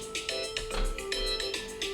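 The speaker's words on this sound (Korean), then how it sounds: "전화가 왔네요." Electronic phone ringtone for an incoming call, repeating bright tonal bursts in a steady rhythm, moderately loud and close with no voices over it.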